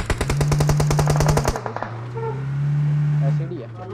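Gunfire in the mobile game BGMI: a loud rapid automatic burst of a dozen or so shots, then quieter game sounds.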